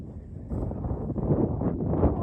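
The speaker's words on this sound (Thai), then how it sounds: "แต่มันลมอ่อนนะ" Light wind blowing across an outdoor microphone, a soft rumbling gust that swells and fades in uneven waves, with no talk over it.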